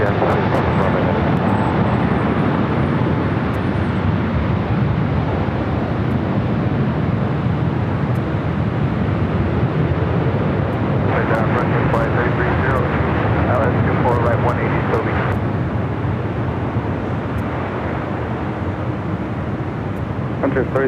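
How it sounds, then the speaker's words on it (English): An Emirates airliner's engines roar loudly and continuously at LAX airport, a broad sustained rumble that swells midway, with radio chatter and talk layered over it. "a little turn and burn action for Emirates"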